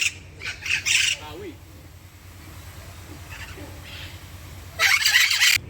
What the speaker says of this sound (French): je rentre dans la serre aux oiseaux